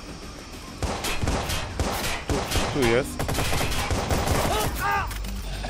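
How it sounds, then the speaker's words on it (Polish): Rapid bursts of gunfire from the Watch Dogs video game crackle in quick, dense volleys, loud and close, with someone speaking briefly over the shooting. "Oni jeszcze strzelają."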